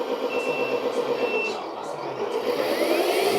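A LikeRC U535 metal-body 1/14 RC off-road crawler sounds its reversing beeper: a steady series of short, high electronic beeps over a continuous mechanical hum.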